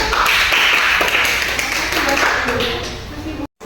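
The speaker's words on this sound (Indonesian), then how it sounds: "Buat berikan tepuk untuk kelompok 2." A classroom of students claps for a presenting group during a maths lesson, a dense burst of hand claps that fills most of the moment before cutting off abruptly near the end.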